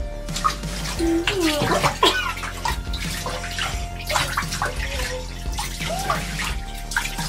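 Water runs steadily into a bathtub while a young boy's hair is rinsed, a continuous close splashing wash with small splashes, a voice and adult chatter over it.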